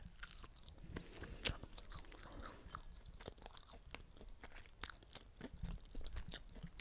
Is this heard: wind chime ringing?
no